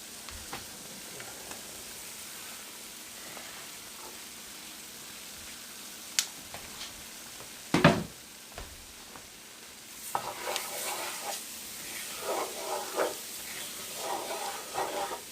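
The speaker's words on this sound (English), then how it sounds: "they're kind of getting deep fried and shallow fried and pan fried and all that stuff all at the same time" Vegetables for gumbo sizzle in hot oil in a pan, a quiet steady hiss broken by a few sharp clatters, then louder crackling and spitting bursts near the end.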